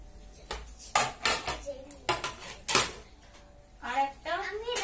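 Newly bought red plates clink and clatter as they are handled and set down, making a handful of sharp ceramic knocks, while someone talks over them.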